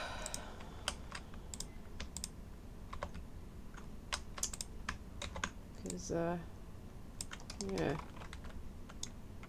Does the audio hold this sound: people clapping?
no